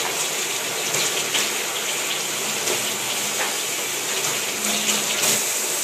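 Tap water runs steadily into a container to soak freshly cut aloe vera leaves, a constant close hiss and splash with small gurgling shifts throughout and no talking.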